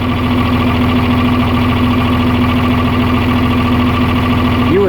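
A John Deere 4010 tractor engine idles steadily, loud and close with a constant low drone, briefly shifting pitch at the very end.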